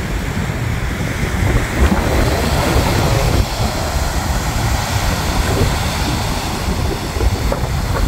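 Steady wind gusts at Maraetai Beach in South Auckland, a loud continuous broadband rush with surf mixed in, buffeting the microphone for the whole stretch with no voices.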